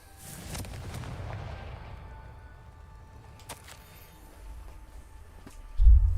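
A Confringo fire spell blasts off in Hogwarts Legacy as one loud, heavy explosive boom near the end, with a deep thud and crackle following quieter ambient game rumble and scattered impacts.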